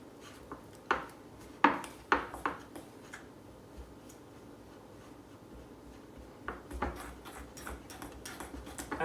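Flour being cut into butter and liquid for a flaky pastry dough, giving a series of light taps and scrapes of a utensil against a bowl in irregular clusters, close and fairly quiet.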